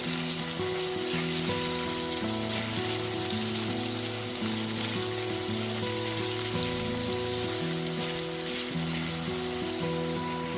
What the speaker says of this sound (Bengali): পেঁয়াজটা এখানে নরম করে ভেজে নিয়েছি।